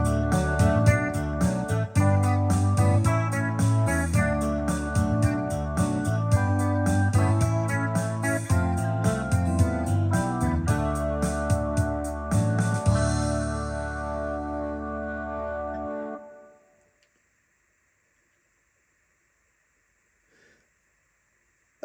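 A multitrack song built on a Yamaha PSR-SX920 arranger keyboard plays back with steady drums, bass and layered instrument parts at full volume for about sixteen seconds, then stops abruptly into near silence.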